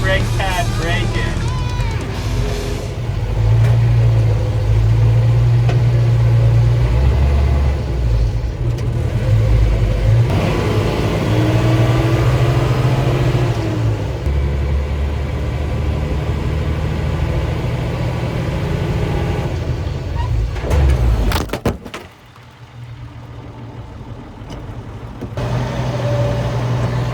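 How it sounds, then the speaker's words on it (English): An M35 military truck driving on a street and braking to bed in new rear disc brake pads, heard as a loud, steady engine drone with shifting revs. The engine drops off abruptly near the end, and someone talks over it. "Now we'll do that first brake pad break-in."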